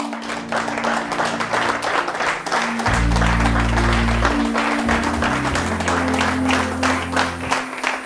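Church congregation applauding for several seconds, a dense steady wash of clapping with crowd noise and sustained low organ or keyboard tones underneath, no clear speech.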